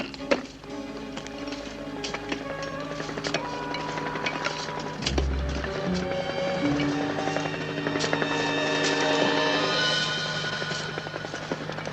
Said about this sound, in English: Listen, the chopper.